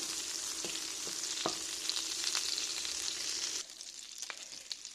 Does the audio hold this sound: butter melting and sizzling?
yes